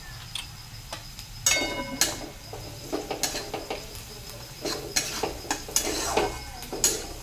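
Onion and crushed garlic fry in a pan while a spatula stirs them, giving irregular clicks, taps and scrapes against the metal over a faint steady background.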